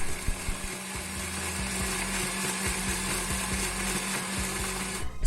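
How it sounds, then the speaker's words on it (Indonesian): A kitchen blender whirs continuously, blending suji and pandan leaves with water into a smooth liquid, with a steady motor hum and a few irregular rattling knocks near the microphone. "Kita blender hingga halus."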